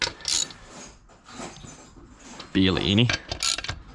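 A ratchet tightens the mounting bolts of a new bucket seat in a Toyota Altezza. It gives a short burst of clicking and metallic ratcheting near the mic, set between quiet rustling and brief faint talk.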